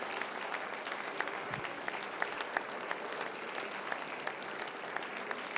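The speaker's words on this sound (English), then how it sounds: "Clap your hands and pray." A church congregation claps hands during prayer, a dense, steady patter of many hands with a few sharper claps standing out, moderately loud and without clear speech.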